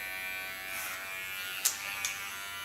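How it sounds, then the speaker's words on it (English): An electric hair clipper, held at an angle against the skin, cuts a man's hair with a close, steady buzz and a couple of brief sharper snips near the end. "holding my clipper in an angle, so I don't take off hair that's laying above it."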